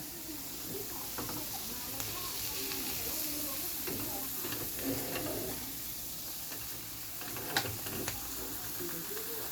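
Pickled cabbage stir-fried with egg in a pan, a steady sizzle with scraping and stirring clatter from the spatula, a few sharper knocks, and someone speaking now and then over it.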